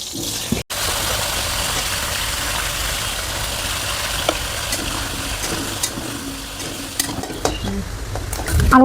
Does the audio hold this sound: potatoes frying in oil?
yes